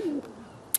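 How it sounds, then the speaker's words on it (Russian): A pigeon gives a short, low coo close by, followed by a brief sharp high-pitched rustle or click at the end. "Вот проклятые голуби,"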